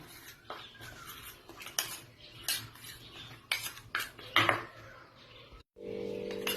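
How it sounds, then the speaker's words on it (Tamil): Spoon stirring a face pack of rice flour, curd and tomato in a bowl, with irregular scraping and clinking strokes close by, ending in a brief pause and then a steady hum. "இப்போ இது வந்து நல்லா மிக்ஸ் பண்ணணும்."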